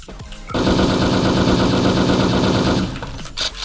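Rapid automatic gunfire from a video game as a player shoots an enemy: one loud, sustained burst of closely spaced shots lasts a little over two seconds, then cuts off, leaving brief quieter clicks and game noise.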